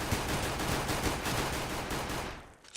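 Steady, dense automatic gunfire from a Counter-Strike style game, loud and close, rattling without a break for over two seconds before stopping abruptly.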